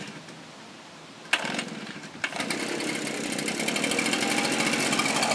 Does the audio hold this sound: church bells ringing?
no